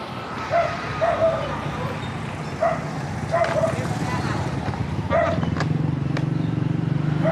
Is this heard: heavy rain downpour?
no